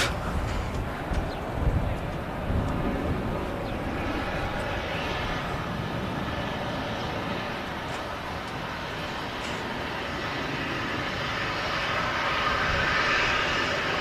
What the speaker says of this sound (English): very smooth rotation there from the Ryanair. Just floated up.